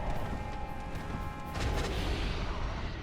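A boss's explosion attack in Dark Souls Remastered, set in Blighttown, erupts as a dense, roaring blast that swells midway and rumbles on for a few seconds without any talk.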